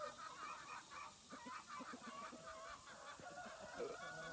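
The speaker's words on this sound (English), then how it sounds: "He's just checking the chickens out." Farm chickens cluck softly in a series of short, repeated calls, somewhat distant over a steady background hum, with no one speaking.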